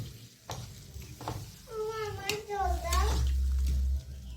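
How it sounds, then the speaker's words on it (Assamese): Water is poured into a sizzling pan during home cooking, producing a brief burst of hissing and a low rushing sound after a voice speaks nearby. "এয়া মই এতিয়া ইয়াতে পানী দি দিম"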